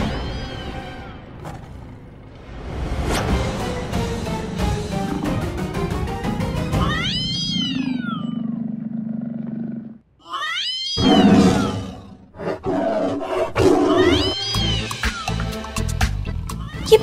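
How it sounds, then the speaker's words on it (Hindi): Cat meows repeat loudly over a busy, music-like backdrop, sounding like a ringtone that plays several yowling calls over about seventeen seconds. "बिल्ली की आवाज कैसे आ रही है? ये पुष्पा जी का रिंगटोन है"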